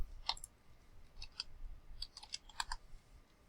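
Quiet, scattered clicks of keys on a computer keyboard, a few irregular taps close by against a low background hum.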